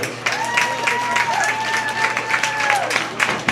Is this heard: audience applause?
yes